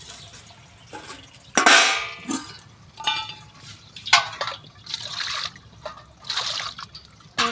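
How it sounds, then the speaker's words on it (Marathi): Water splashes and trickles into a metal pot on a wood-fired stove in several separate pours, for cooking rice flour papad, with brief pauses and light clanks between them. "याच्यात थोडं पाणी टाकून घेऊया"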